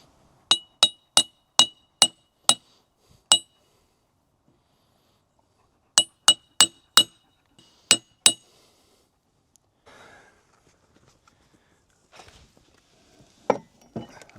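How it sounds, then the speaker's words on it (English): A new bushing is used to tap the stick seal into a rusty hydraulic cylinder from a Hitachi EX120-2 excavator. Close, sharp metallic taps come in two quick bursts, about seven and then five, followed by faint handling noise. "Guess we can just use the new bushing to tap this in."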